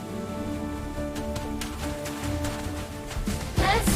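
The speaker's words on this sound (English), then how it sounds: "no, it's raining!" Steady rain patters and hisses throughout, close and fairly loud, with a brief louder splash of drops near the end.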